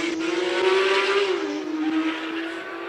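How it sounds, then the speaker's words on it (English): A Porsche GT3 RS launches up the course at a Cape Town hill climb finals, its loud, close engine note climbing and holding steady for a few seconds with some tyre noise underneath. "Kosi Bayers launches that Porsche GT3 RS."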